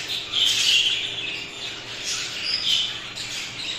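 Budgerigars squawking and chirping in a breeding aviary, a dense chorus of bright chattering calls rising and falling in bursts, fairly close and without speech.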